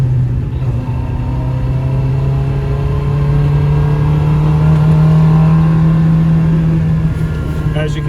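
A 1964 Honda S600 Roadster drives on slick roads with its small engine revving in a loud, steady, rising whine, heard from inside the car while a person talks over it.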